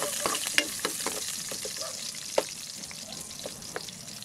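Ginger sizzling as it fries in a pan, a faint steady hiss with occasional light clicks of stirring, heard alone in the background.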